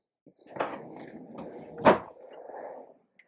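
A kitchen spice and herb drawer opens with a couple of short wooden knocks and a sliding rumble, the loudest clunk about midway, close by and with no talk.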